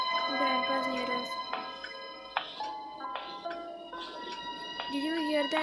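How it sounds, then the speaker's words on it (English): A bell chiming in the Granny horror video game, with a few clear ringing strikes and lingering tones spread through the clip, moderately loud over soft background game ambience. "Did you hear that bell?"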